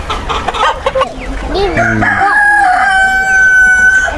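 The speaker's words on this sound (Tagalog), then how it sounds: "Yan sila dito mga native na manok." A native rooster crows loudly in a long rising call, with native hens clucking around it and a voice briefly audible in the background, in a rural province.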